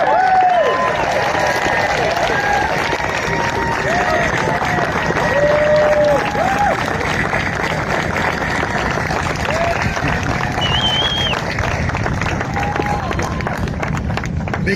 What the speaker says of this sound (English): give Tom a round of applause, too. In fact, let's make some real noise